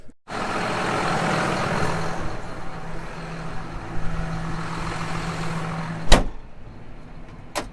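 A truck pulling an agricultural grain trailer drives toward the silo with a steady engine rumble and road noise. Near the end, a couple of sharp clunks sound close by.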